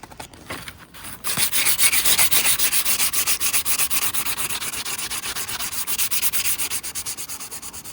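Sanding a car body panel on a 2005 Toyota Corolla XRS: steady, close back-and-forth rasping strokes in a regular rhythm, continuing for several seconds after a brief start.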